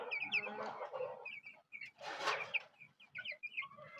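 Silkie chickens clucking on a farm, short clucks and chirps coming in close bursts with a wider rustling flurry partway through.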